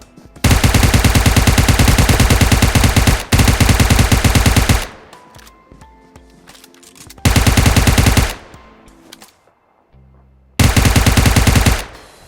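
Bursts of full-auto fire from a UMP 9 submachine gun chambered in 9mm in PUBG, loud rapid rattling volleys of several seconds each separated by short pauses with faint echo and clicks between them.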